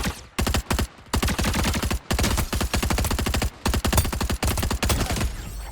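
Twin Mag gun from a looter shooter game firing rapid bursts at medium range, loud and close, with short pauses between volleys and no voices.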